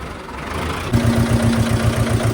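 A tractor's diesel engine idles with a low, steady throb that starts abruptly partway through and continues to the end, close and fairly loud.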